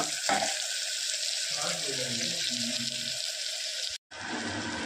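Turmeric and cumin sizzling in hot oil in a pan, a loud steady frying hiss with a brief stir partway through, continuing without pause.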